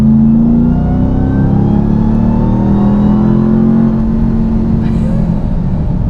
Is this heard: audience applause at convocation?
no